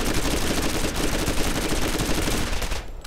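A Gatling gun turret in the Borderlands video game fires a continuous, loud rapid burst of shots that cuts off abruptly near the end, with no talking over it.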